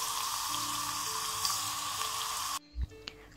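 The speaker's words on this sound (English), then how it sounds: "Fry the remaining bittergourd in the same way." Bittergourd slices deep frying in hot oil, a loud steady bubbling sizzle that cuts off abruptly near the end, followed by a few quiet clinks and a soft thud.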